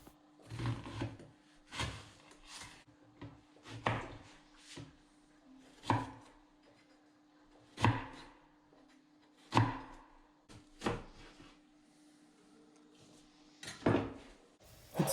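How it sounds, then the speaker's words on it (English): A knife slicing through a leek into thin noodle-like strips on a board, with about a dozen separate crisp chopping strokes landing at an uneven pace, close and fairly quiet. "Now let's move on to a leek, and we are going to slice it into thin noodles."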